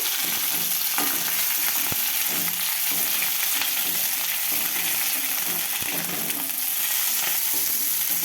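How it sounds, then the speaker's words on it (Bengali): Yard-long beans and pointed gourd sizzle lightly in oil in a pan, a steady close frying hiss with occasional stirring clicks throughout, and no voices. "এখানে নিয়েছি বরবটি আর একটা পটল এগুলো আমি খুব হালকা করে ভেজে নেবো"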